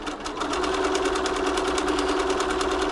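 A Bernina B325 sewing machine runs a stretch stitch on a service bench, a close, steady, rapid mechanical whir with an even pulsing rhythm throughout, the fabric feeding back and forth.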